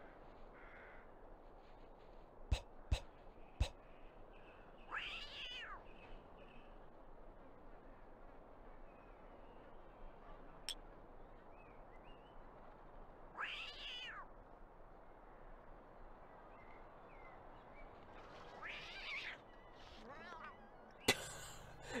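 A cat in a Disney Mulan video game on PlayStation gives three drawn-out meows spaced several seconds apart over a low ambient game background with a few sharp clicks.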